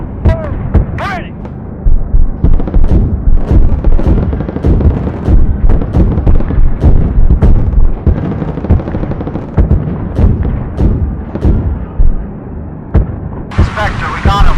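Heavy gunship cannons in Project Gunship firing a rapid stream of loud booming shots with rattling, artillery-like thumps that continue for most of the stretch, while radio voices talk over the barrage.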